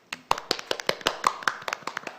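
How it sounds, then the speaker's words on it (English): A small group applauds at a city general assembly session, with sharp, distinct claps close by in an uneven, sparse pattern rather than a dense wash. "why don't we give a big round of applause?"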